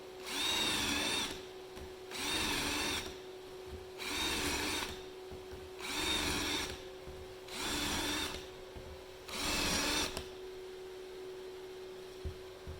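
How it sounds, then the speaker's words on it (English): A power drill bores shelf pin holes into wood through a Rockler shelf hole guide, six separate bursts of whirring, each lasting about a second, evenly spaced, with a steady hum between them and no talking. "Make sure that's set, clamp it down, and we'll just keep on drilling."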